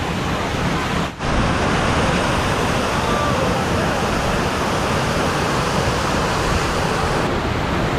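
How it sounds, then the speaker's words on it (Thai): Rushing water of the Soi Sawan twin waterfall in Ubon Ratchathani, Thailand, a loud, steady, close broadband roar that continues unbroken except for one brief dip. "ตรงนั้นนะครับเป็นน้ำตก ที่มีสองน้ำตกในที่เดียวนะฮะ"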